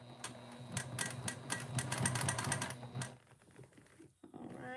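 Sewing machine stitching a heart-shaped bag, run slowly in a rapid series of close mechanical clicks and taps for about three seconds before going quiet, with faint handling noises afterward.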